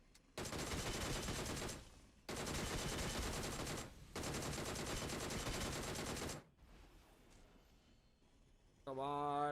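Long automatic bursts from a DP gun in a video game, three sustained, loud streams of rapid fire separated by short pauses, then quieter game noise and a tonal electronic sound at the end.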